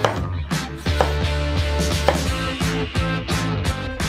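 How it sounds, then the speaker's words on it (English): A knife cuts an ordinary tomato into slices on a board, a steady run of close, crisp chops repeating roughly every half second over a sustained background tone. "Cut an ordinary tomato into slices."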